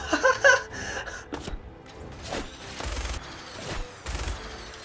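Bursts of gunfire from the video game Fallout 4 crackle in close, rapid volleys, with heavy thuds and scattered shots spread through the clip. A raised voice is briefly heard near the start.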